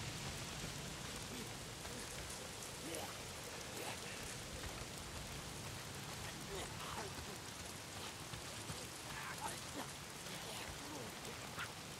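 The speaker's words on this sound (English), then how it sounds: "If it's not the freaks, it's the goddamn rain. Why is it always raining?" Steady rain falls in the video game Days Gone, a dense, even hiss of drops with occasional faint splashes, continuous and fairly soft throughout.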